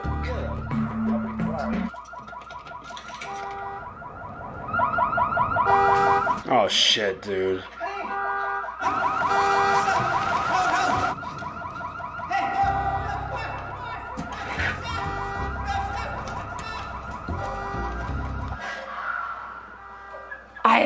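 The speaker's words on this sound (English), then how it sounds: "He's gonna have to keep tripping the alarm" A car alarm in the TV show Better Call Saul repeatedly blares its cycling, warbling tones over several seconds, interrupted by excited exclamations from people reacting as they watch.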